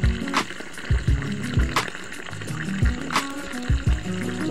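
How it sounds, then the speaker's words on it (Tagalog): Water being poured to top up a pig's bath, a steady splashing trickle with several sharp knocks and clunks of a container at close range, no voices. "dinadagdagan ko ng tubig kasi kulang"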